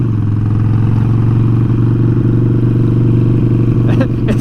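Custom Harley-Davidson Sportster 1200 Forty-Eight motorcycle idling with a loud, steady low rumble and rapid engine pulsing throughout, close by, with some clatter near the end.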